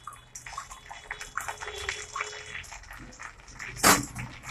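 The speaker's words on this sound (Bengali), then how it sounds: "তেলটা গরম করে এবার ফ্রেন্ড আমি ওই তেলে একটা শুকনো লঙ্কা, দুটো তেজপাতা, আর একটা দারচিনি, 4টে লবঙ্গ, আর 4টে এলাচ" Whole dried red chilli, bay leaves, cinnamon, cloves, cardamom and cumin seeds fry in hot oil, a close, uneven sizzle and crackle with scattered pops and a sharp burst of spitting near the end.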